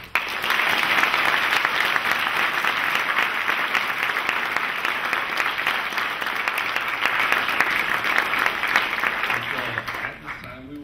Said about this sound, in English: really big round of applause?